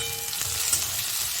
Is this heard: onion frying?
yes